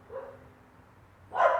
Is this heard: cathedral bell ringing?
no